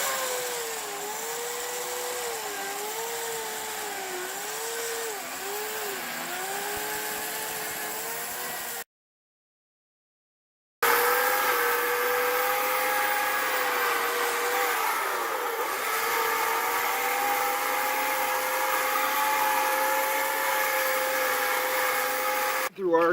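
Chainsaw cutting into straw bale walls of a house under construction, a droning motor with wavering pitch as the load changes, broken by a short silent gap before the whine resumes, close and continuous.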